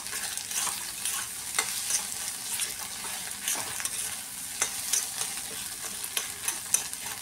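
Egg scramble sizzles steadily in a pan while a utensil scrapes and stirs with irregular clicks, no voices.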